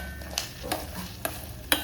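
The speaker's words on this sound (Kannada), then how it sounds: "ಈಗ ಫೈನಲ್ಲು ಒಗ್ಗರಣೆ ಹಾಕ್ತಾಯಿದ್ದೀನಿ" Spices for a final tempering crackle and sizzle in hot oil in a home kitchen, a steady frying hiss broken by a few sharp pops spaced about half a second apart.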